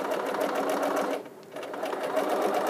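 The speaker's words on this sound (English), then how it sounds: "we're just going to roll this over and we're going to start stitching" A sewing machine stitches along a folded fabric edge, a close, steady buzzing drone that dips briefly in the middle before resuming at full speed, with no talking.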